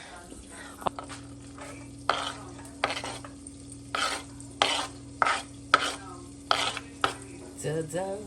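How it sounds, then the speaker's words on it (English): Butter and garlic cook in a pan for a tomato sauce, a faint steady sizzle under repeated clattering stirs of a utensil against the pan, close by, with a brief spoken word near the end. "I'm just melting some butter, and I'm gonna throw some garlic in here"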